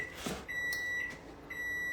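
A kitchen oven preheated to 415 degrees gives steady high electronic beeps, with two short breaks in the tone, over a low background hum.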